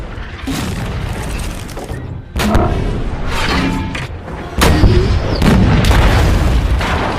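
Heavy booms and blasts from a German Tiger tank and a T-34 in a World War II tank battle, with repeated cannon fire and explosions in loud successive bursts and a rumbling low-end backdrop.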